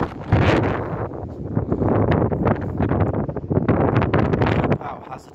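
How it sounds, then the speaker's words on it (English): Outdoor wind buffets the microphone on the coast at Landguard Point. It makes a loud, continuous rumbling roar with gusty surges throughout. "the wind is being an absolute pain in the ass on this video"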